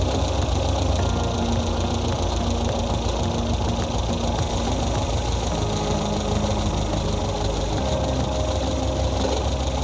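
Car engine idling steadily near 800 rpm during an ignition check with a dwell tester, a continuous low rumble with a faint rhythmic knock, loud and close throughout with no talk.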